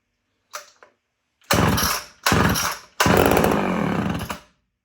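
Homelite Super XL chainsaw with a 20-inch bar pulled over: a short sputter, then two loud bursts and a sustained roaring run up close, stopping abruptly.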